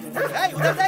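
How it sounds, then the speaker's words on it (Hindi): A dog barks in short, repeated yelps during a scene from a Hindi-dubbed feature film, the barks close by and mixed in with someone talking over them. "अरे कुत्ता क्यों भौंक रहा है"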